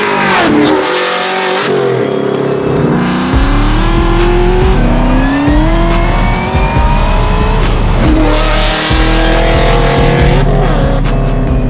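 A 700 hp supercharged LSA-powered Chevy Nova drives hard nearby, its engine revving loudly and rising through gears with deep, continuous roar and tire noise.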